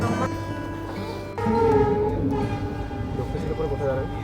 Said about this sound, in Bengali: দক্ষিণেশ্বর থেকে ট্রেন ছেড়ে দিল।